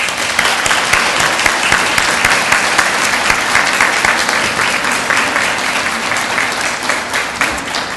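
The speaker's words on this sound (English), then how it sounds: "let's again recognize these wonderful, dynamic nurses with a round of applause." An audience at a hospital and nursing school centennial celebration gives the nurses a loud, sustained round of applause, dense clapping close and continuous from start to finish.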